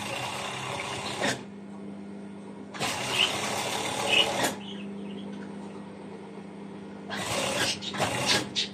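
Sewing machine stitching elastic into a flannel pajama waistband, running in steady bursts of mechanical whirring with short pauses between runs, close and clear with no talk.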